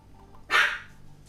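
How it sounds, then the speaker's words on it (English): A single short dog bark sounds once, moderately loud and fairly close, against a quiet indoor background. "Oh, there is a dog."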